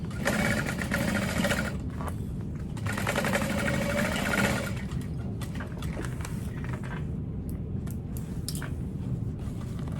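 A sewing machine stitching a handbag runs in loud, steady bursts of rapid mechanical whirring, stopping and restarting several times, close up and without speech.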